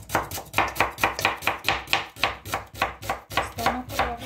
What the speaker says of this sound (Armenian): Այս արագ սուխը կտրատեմ